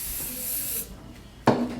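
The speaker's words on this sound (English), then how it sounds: "So I always spray or sheen all over the ponytail once I am done." Hair sheen spray sprays onto a ponytail in one long steady hiss, then stops and is followed by a short, sharper burst near the end, close and fairly quiet.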